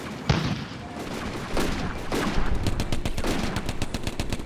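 Machine gun fire in the Combat Mission: Afrika Korps wargame at the battle of Bir Hakeim, a few sharp isolated shots followed by a long rapid burst of automatic fire at mid-distance, with a voice faintly underneath.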